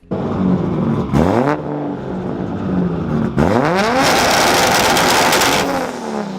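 A car with a muffler delete revs hard twice, each rise ending in a loud, raspy, crackling exhaust roar that holds steady near the end.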